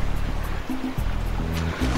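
Continuous water sounds from the Jak and Daxter game, a steady wash of surf and splashing with low tonal game music running underneath, no talking.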